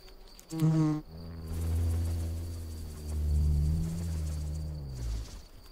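A wild bee hums and buzzes steadily close up while working on its nest in a shell, a continuous droning tone that rises and falls, with no voices.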